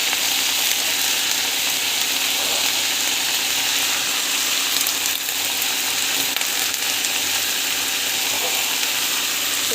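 Mint leaves sauté in a hot pan with a dense, loud, continuous sizzle and hiss that holds steady the whole time, close up and without talk.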